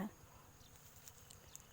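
Bees buzz around a flowering corn field in the morning, a faint, continuous low drone with a few brief higher buzzes as insects pass close, heard outdoors under quiet background noise.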